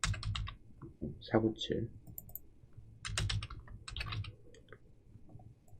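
Fingers tap number keys on a computer keyboard in quick bursts of close, crisp clicks, separated by short pauses while someone talks between the bursts.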